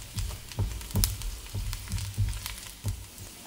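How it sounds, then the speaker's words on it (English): Garlic frying in hot oil in a pan, a steady close crackle and sizzle with soft irregular knocks and stirring sounds, no voices. "Then add your garlic, fry until slightly golden brown."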